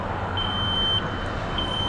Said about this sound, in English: The buzzer's going off